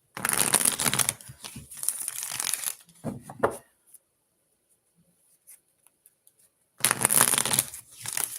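Tarot cards being shuffled by hand in bursts of crisp riffling and flicking, two longer runs separated by a short shuffle and a near-silent pause with a few faint taps, close and clear with no talking.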